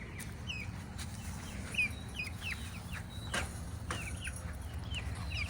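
Chickens cluck and chirp in a chicken run, several birds calling in short repeated bursts over steady low outdoor background noise, no voices.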